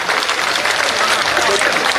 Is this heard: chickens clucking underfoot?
no